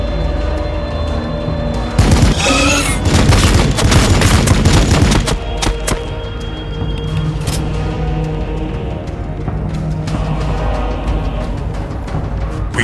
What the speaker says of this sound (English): Heavy fire support!